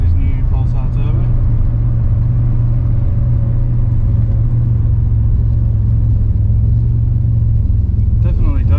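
A stock Ecotec V6 with a newly fitted Pulsar turbo and piggyback ECU idles in a low, even, continuous rumble, close and loud, with no revs or pauses throughout.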